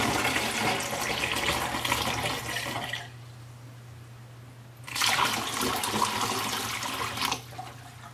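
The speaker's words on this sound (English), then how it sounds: "I'm gonna pour that chemical into the bottle called or labeled stabilizer." Liquid chemical pours through a funnel into a quart bottle in two bursts, a gurgling rush, pausing briefly between, with a faint hum underneath.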